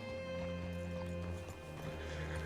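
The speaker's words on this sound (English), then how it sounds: "Hitch your horse up here." Horse hooves clopping in the video game Red Dead Redemption 2, a soft steady gait under a constant low hum of game ambience, without any speech.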